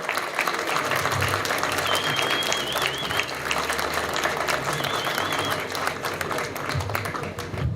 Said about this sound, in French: Et je pense qu'on peut les applaudir chaleureusement.